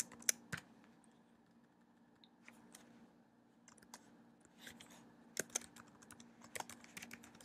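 Keys tapping on a computer keyboard while coding an iPhone app, sparse, quiet clicks in small irregular bursts over a faint steady hum.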